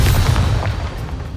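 A Depulso spell cast in Hogwarts Legacy lands as a dense, low rumbling blast that rolls on for over a second, loud and close, with a noisy roar fading slightly toward the end.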